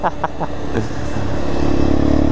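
A 50cc moped engine revs at full throttle during a race, giving a loud, close, steady buzzing drone that climbs slightly after a few brief blips at the start, with voices heard briefly over it.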